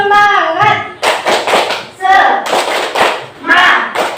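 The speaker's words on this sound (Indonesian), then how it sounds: "tepuk semangat" Schoolchildren in an Indonesian classroom perform tepuk semangat, a rhythmic spirit clap. Short bursts of loud group clapping alternate with the class chanting together in a steady, repeating pattern.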